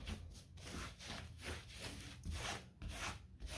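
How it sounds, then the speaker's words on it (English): A brush lays the first coat of white paint onto a canvas rug in close, rhythmic back-and-forth rubbing strokes, repeated steadily for a few seconds with no talking. "So I'm going to do the very first coat with white."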